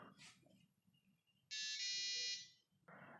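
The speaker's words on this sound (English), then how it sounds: "there is some error, which is why the buzzer had some sound" A buzzer on a Pixhawk 2.4.8 flight controller in an S550 hexacopter drone sounds an arming error. It gives a short chirp, then a loud, steady tone of about a second, and a second tone starts at the end, with no talk.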